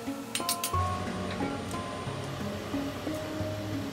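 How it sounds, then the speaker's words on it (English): Pot lid set back down on a cooking pot of tantuni meat after broth is added: a clear metallic clink and light rattle up close, with ringing tones fading over steady kitchen sizzle. "Meat broth is added into the meat and the lid is closed again."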